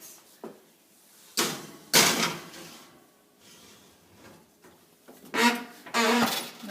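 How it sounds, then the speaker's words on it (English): A baking tray slid into a kitchen oven, with a few sharp metallic clunks and scrapes of the rack and door, loud and close, separated by quieter handling noise. "So I'll put this into the oven for 15 minutes."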